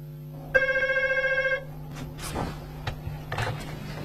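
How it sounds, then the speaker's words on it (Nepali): An old-style telephone bell rings loudly in one continuous burst of about a second in a Saraiki drama scene, followed by quieter room sounds and a few soft knocks. "सर आंटी जमीला का फोन है।"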